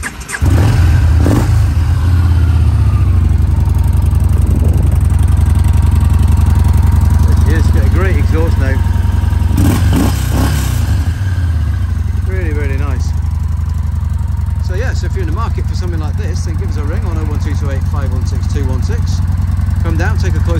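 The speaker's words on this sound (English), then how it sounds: "Nice V-twin, sounds fantastic as well." A Yamaha SCR950 V-twin motorcycle's 950 engine fires up and runs with deep rumbling idle and several revs, loud and close throughout, with a voice speaking over it at times.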